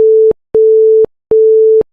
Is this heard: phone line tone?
yes